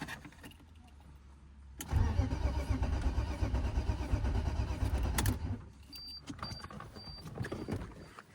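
BMW M50 turbo engine in an E36 cranking over on the starter during a compression test, a loud steady churning grind lasting several seconds before cutting off, followed by a quieter background with faint high beeps.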